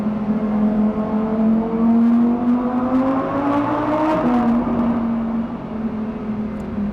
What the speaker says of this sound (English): That's a Lamborghini.